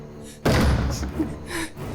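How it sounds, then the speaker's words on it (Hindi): A loud thud on a door in an indoor drama scene, one heavy bang followed by a softer second knock, close by with no voices over it. "दरवाजा खटखटाना बंद करो।"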